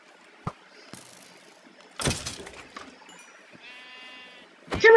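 Minecraft sheep bleat near the end, a short nasal cry standing out over scattered game clicks, thuds and a faint tonal effect in an otherwise quiet survival scene.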